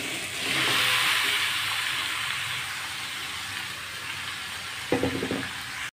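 Chicken added to fried onions in a hot pan, a loud hissing sizzle that swells early then gradually fades, followed near the end by a few clattering stirs, close up with no talk.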